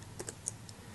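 A handful of light, quick clicks from a computer keyboard as a short formula is typed into a spreadsheet, faint and close, with no voices.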